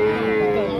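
A Peranakan Ongole cow at a cattle market gives a short, loud, close moo lasting under a second.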